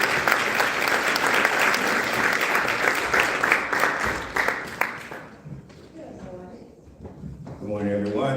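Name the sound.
audience applause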